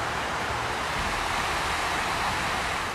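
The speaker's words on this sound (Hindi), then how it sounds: "दोनों तरफ अपार्टमेंट और बीच से बह रहा है सैलाब" Floodwater surging between apartment buildings in a flooded town in western Germany, a loud, constant broadband roar of rushing water that fills the whole stretch without pause.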